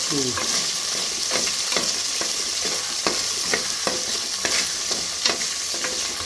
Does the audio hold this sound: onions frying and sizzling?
yes